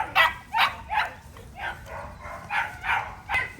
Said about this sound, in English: She's gonna be a nice sized dog, you can tell.